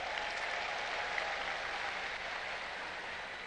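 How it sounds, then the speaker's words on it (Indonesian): An audience applauds at a PKS political anniversary event in Indonesia, a thick, unbroken patter of many hands clapping that stays steady and moderately distant across the whole stretch. "boleh beri tepuk tangan kepada mereka"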